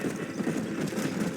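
Horse hooves clip-clop steadily alongside an occasional neigh in the video game Red Dead Redemption, a continuous moderately loud trotting rhythm with no talking.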